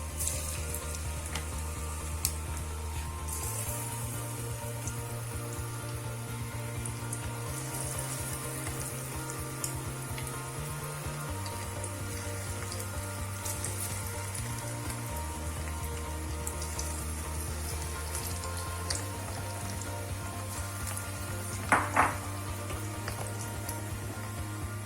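Medium-sized prawns, three at a time, sizzle and crackle in a frying pan, a steady close hiss running under background music with no talking.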